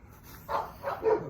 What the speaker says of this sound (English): the dogs are barking and they're making it very hard to speak